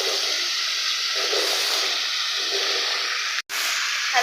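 Cut gourd hitting hot spiced oil, a loud continuous hissing sizzle up close that holds steady, breaks off for an instant, then resumes.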